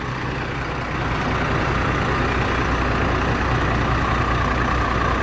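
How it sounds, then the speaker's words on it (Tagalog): A truck van rumbles past on a road, its heavy engine drone steady and loud throughout, swelling slightly as it draws near, with no voices. "Ang problema, inabot kami ng truck van."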